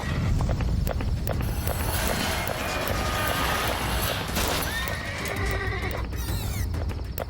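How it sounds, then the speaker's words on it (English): A horse pulling an Amish buggy neighs loudly over steady road noise at night, with hoof clatter and a rushing, continuous background roar throughout. "An Amish horse and buggy whips around a corner"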